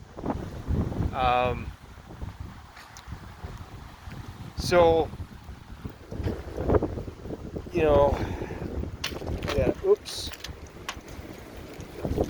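Gusty wind buffets the microphone in loud rumbling bursts, with a person speaking briefly between the gusts.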